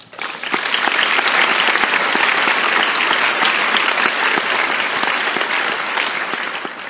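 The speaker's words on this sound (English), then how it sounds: "would you join me if I asked to clap and cheer for those who couldn't make it on their behalf?" A graduation audience claps and cheers in a sustained, steady wave of applause that swells quickly and holds loud and close for several seconds before tapering slightly.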